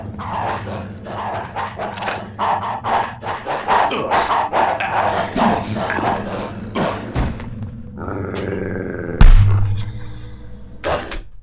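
A dog in the game Postal 2 barks repeatedly in loud, close, rapid bursts, with a few yips and a whimper, then a heavy thud and a final bark.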